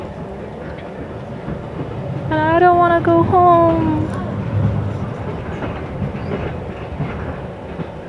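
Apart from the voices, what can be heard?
train riding on rails in Samedan, Switzerland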